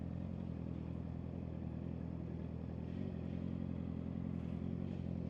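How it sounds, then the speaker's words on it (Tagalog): Steady engine drone from motorcycles on a road, a constant low rumble with some clatter and no clear single pass-by, heard from a rider's position with no talk. "Ay, ang daming motor."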